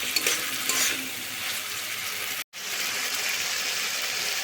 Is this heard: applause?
no